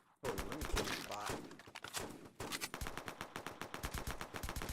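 Rapid video-game gunfire while shooting down a bot, loud dense bursts at first, then a steady stream of sharp, evenly spaced shots carrying through to the end.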